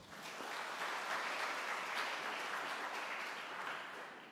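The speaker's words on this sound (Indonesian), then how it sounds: "Tepuk tangan untuk Tuhan." An Easter service congregation at an HKBP church applauds, a broad sustained round of clapping that swells and fades gently over a few seconds without speech.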